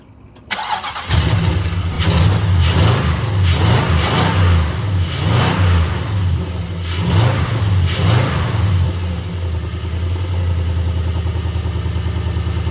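A 2004 Nissan car engine cranks and catches, then revs through several rising and falling bursts before settling into a steady idle, loud and close with no talking.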